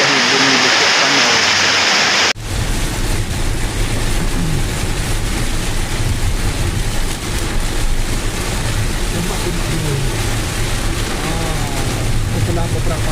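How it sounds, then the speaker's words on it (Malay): Heavy rain pours down outside a house, a dense, loud, steady roar that starts abruptly after a brief opening sound and continues unbroken. "Hujan lebat menyimbah bumi kat rumah, membasahi bumi kat rumah,"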